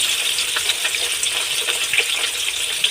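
Potato pieces frying in fish oil in a pan, a steady bright crackling sizzle with small pops, close and continuous throughout with no talk.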